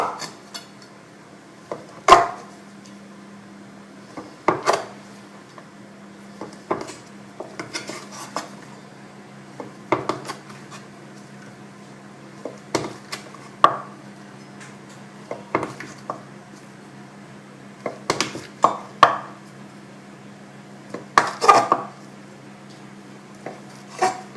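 A knife cuts through a reblochon cheese for an endive tartiflette, scattered sharp clicks and taps of the blade against a board over a faint, steady background hum.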